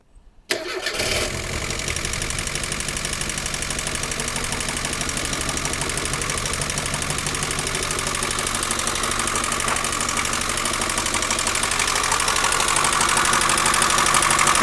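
Engine cranks and catches, then settles into a steady, loud idle with a rapid ticking camshaft clatter running throughout.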